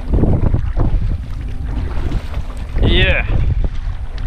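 Strong wind buffets the microphone at sea off Trinidad in the Gulf of Paria while a fishing kayak is paddled, with loud, continuous gusty roar and a brief whistling tone; someone says a single word.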